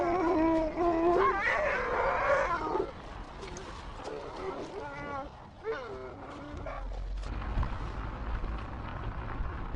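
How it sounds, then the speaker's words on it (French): Abandoned sled dogs in Ilulissat, Greenland, howl and bark together in a long wavering chorus, loudest at the start and then breaking into scattered yelps and calls over steady background noise. "elle croise des centaines de chiens de traîneau à l'abandon"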